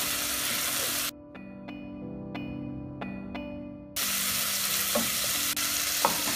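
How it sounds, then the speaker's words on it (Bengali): Spice paste frying in oil in a pan for a hilsa fish head and ash gourd curry, a steady close sizzle with a few sharp crackles and stirring scrapes, the hiss briefly dropping off in the middle before returning. "আমার মশলা মোটামুটি কষানো হয়ে গিয়েছে, একটু ভাজা ভাজা হবে, তেলটা বের হয়ে এসেছে।"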